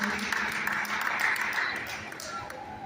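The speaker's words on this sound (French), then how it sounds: "Clap for the glory of the Lord." Rhythmic clapping from a church congregation runs under a voice speaking over it, with the claps thinning out near the end.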